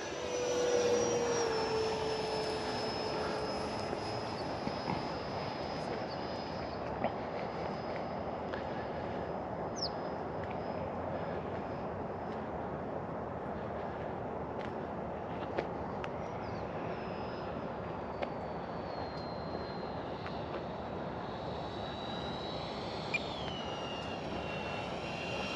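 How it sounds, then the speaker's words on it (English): A Freewing F22 64mm electric ducted-fan RC jet approaches to land, a steady whooshing fan whine with a faint high tone that holds at a fairly even level throughout, with no talking. "I'm gonna bring it in for a landing now."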